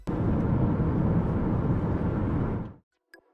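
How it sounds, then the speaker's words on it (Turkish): A loud, steady engine roar with a broadband rumble holds for nearly three seconds, then cuts off abruptly, followed by a few faint tonal blips. "İşte otomobil bu şekilde ses çıkarır."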